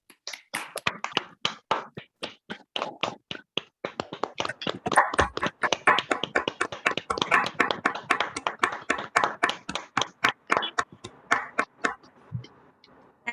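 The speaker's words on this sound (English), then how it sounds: "give a huge round of applause to both of them" Scattered hand clapping from a handful of Toastmasters club members on an unmuted online meeting: crisp, uneven individual claps that overlap into a loose patter for over ten seconds, then thin out toward the end.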